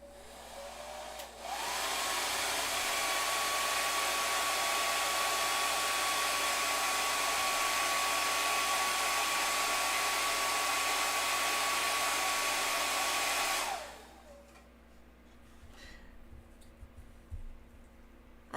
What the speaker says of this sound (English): I'm going to use my blow dryer to warm it up.